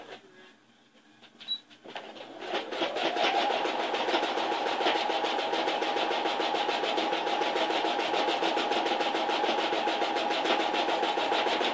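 A sewing machine stitches a small fabric bag, starting after a couple of seconds of quiet handling and then running steadily with a continuous, even mechanical whir close by, with no talking.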